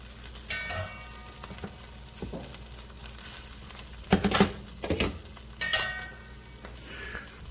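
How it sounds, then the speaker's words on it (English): Pasta sizzling as it is stirred in a hot pan, a steady fry with a few louder scraping clinks of the utensil against the pan midway. "I'm going to stir up the pasta."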